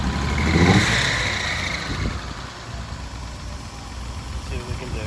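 Mercedes 280SLC engine running rough, hesitating with a broad rumble that swells early then settles into an uneven, faltering idle, with a sharper pop near the two-second mark; close and fairly loud, no talking.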